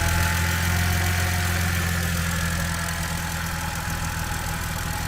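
Car engine idling steadily at an auction walkthrough, a continuous low rumble with a faint exhaust note and a slight drop in idle speed partway through, close and alone with no talk.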